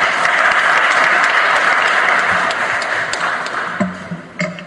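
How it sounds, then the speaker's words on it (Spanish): Loud, dense applause from an audience at a formal judicial plenary session fills the hall, then thins into scattered claps before fading near the end. "a quien le brindamos un fuerte aplauso."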